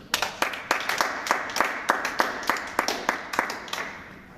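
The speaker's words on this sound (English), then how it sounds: "I'm going to give you a round of applause." Audience applause at an architecture award ceremony, a steady patter of many hands clapping at close range for a few seconds without talk.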